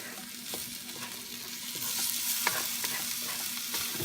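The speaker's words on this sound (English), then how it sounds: "Can mix the vegetables now with it." Japanese fried rice with vegetables sizzles loudly in a hot pan while being stirred, a continuous crackling fry with periodic scraping strokes of a spatula.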